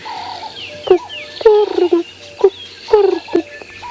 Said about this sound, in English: very dominantly the Cape turtle dove, or the ring-necked dove